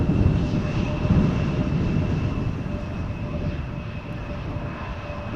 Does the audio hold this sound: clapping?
no